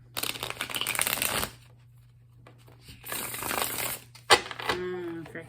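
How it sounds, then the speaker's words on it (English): Tarot cards shuffled by hand in two riffling bursts, close and crisp, followed by a sharp tap and faint rustling. "One more good shuffle."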